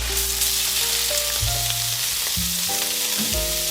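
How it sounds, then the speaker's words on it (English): Sausage sizzles steadily in hot olive oil in a pan, a continuous close crackle heard alone beneath a soft tonal backing of music. "Once the pan gets hot, we can add our sausage."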